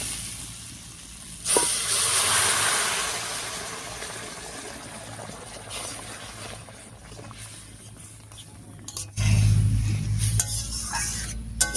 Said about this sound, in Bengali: এবারে জলটা দেবো।